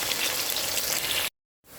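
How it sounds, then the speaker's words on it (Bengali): Onions sizzling loudly in hot oil already used for frying fish, a dense steady crackle that cuts off abruptly, leaving a short silence before faint sizzling returns. "পেঁয়াজ দিয়ে দিতেছি। তেল গরম হয়ে গেছে।"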